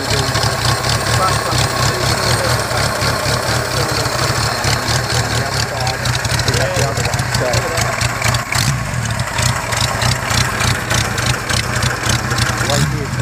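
An Ariel Square 4 1000cc four-cylinder motorcycle idles loudly and close, its engine churning in a steady, even rhythm throughout, while someone talks over it.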